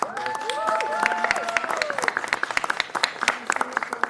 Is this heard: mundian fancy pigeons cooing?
no